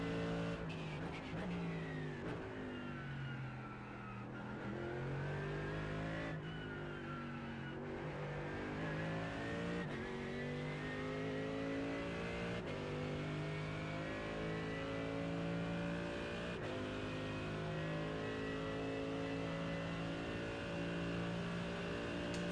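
Mercedes-AMG GT3 race car engine in the iRacing simulator, revving hard through repeated upshifts and downshifts with strong harmonic whine, steady and close throughout, no talking.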